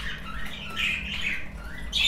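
Lutino budgerigars in a breeding aviary give a few sharp, high squawks and chirps over a steady low background hum, with the loudest call near the end.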